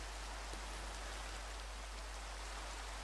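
Minecraft rain falls as an even, steady hiss of drops without letup, with a low constant hum beneath it and no talking.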